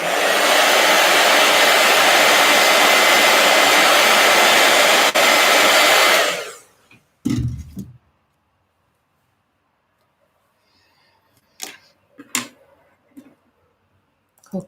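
A heat gun blows loudly and steadily for about six seconds, then cuts off abruptly, followed by a few faint clicks and knocks in near silence.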